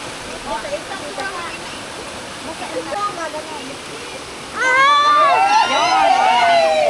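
A waterfall on Marinduque island roars as a steady rushing wash. Voices talk and call out over it, louder and more excited toward the end.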